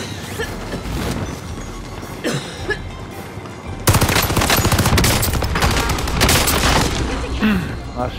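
Rapid video game gunfire, bursts of automatic shots and booms that grow denser and louder in the second half, with a voice speaking over parts of it.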